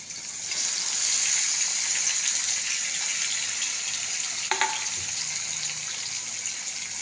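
Sliced potatoes for a chips-style potato curry sizzle in hot oil seasoned with asafoetida and turmeric, giving a steady, bright frying hiss that stays fairly even with a small clatter partway through.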